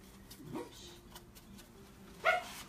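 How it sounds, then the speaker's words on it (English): Indoors, a dog gives a couple of short, faint barks at a distance, each one brief and separated by quiet background. "we have my dog barking"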